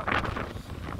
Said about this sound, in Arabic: ريح كبيرة